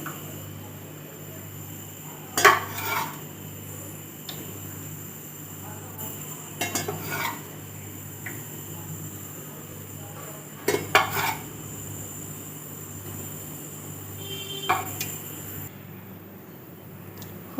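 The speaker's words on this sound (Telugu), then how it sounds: "ముందుగా పల్లీలను వేయించుకొని పక్కన పెట్టేసుకోవాలి" Peanuts being roasted in a pan with oil, a soft background sizzle broken by a few distinct metallic scrapes and clinks of a spatula against the pan at irregular intervals, close by and without speech.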